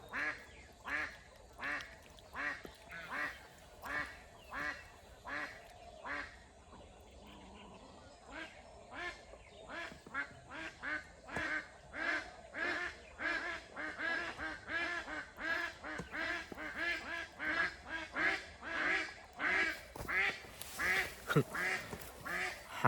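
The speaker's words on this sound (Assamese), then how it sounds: "হাঁহখিনি আকৌ উৎপাত দেখিছে নাই" Ducks quacking in a loud, rhythmic chorus of repeated calls around a birdhouse on a cold, breezy day. The calls come steadily throughout, growing denser and louder toward the end.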